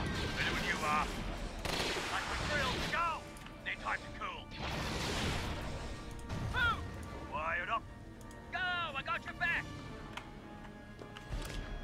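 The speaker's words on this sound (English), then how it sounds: "We're able to shell them with artillery pretty easily" Artillery shelling in the Star Wars strategy game Empire at War, a dense barrage of blasts and crackling fire layered with laser-like zaps, continuous and busy, with a voice talking over the battle.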